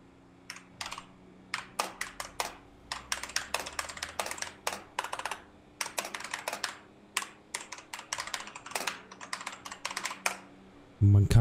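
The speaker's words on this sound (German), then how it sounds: "Man kann die Wut von dir in den Tastaturanschlägen hören" Fast, forceful typing on a computer keyboard during a GTA V Online session, with irregular bursts of sharp close keystrokes and short pauses between them, ending in a louder thump.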